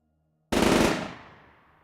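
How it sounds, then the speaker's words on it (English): A loud, close burst of rifle gunfire from a tabletop role-playing game erupts after half a second of silence, a rapid rattling volley that trails off into a decaying echo. "Dexter, you watch as the guy with the rifle fires first."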